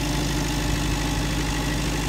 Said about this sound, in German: Das ist der Motor. Der erzeugt den Strom. Durch Gas.